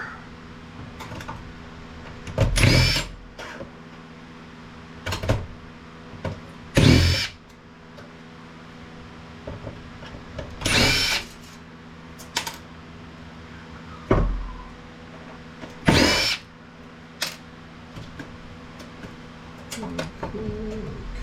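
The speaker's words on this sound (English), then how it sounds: "I'm just going to remove all the screws I see, regardless of if they're going through or not" A power drill whirs in repeated short bursts, loud and close, backing screws out of a circuit board inside a Mitsubishi projector TV being scrapped for metal; quiet clinks and handling noises fill the gaps.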